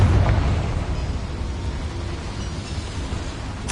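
A Confringo spell explosion in Hogwarts Legacy, a loud broad burst at the start that decays into a rumbling, hissing tail over a few seconds, with another sharp hit right at the end.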